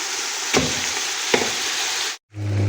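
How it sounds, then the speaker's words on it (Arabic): Spinach fries in a pan with meat, garlic and coriander, a loud, dense, continuous sizzle up close, punctuated by a couple of utensil knocks, briefly cutting out before the hiss resumes. "بعد ما قليت اللحمة والثوم والكزبرة هلا رح احط السبانخ واقليهم مع بعضهم"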